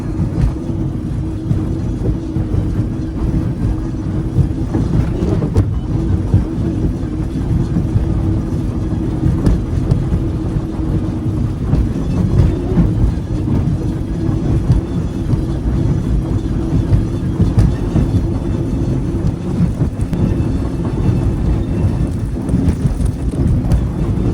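A boat runs under power on open water with its engine blowers going, a loud steady droning roar mixed with wind buffeting over the whole run.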